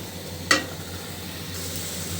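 A spice paste of turmeric, chili, coriander and garlic frying, a steady soft sizzle with one brief sharp stir or clatter near the start, close and without talking.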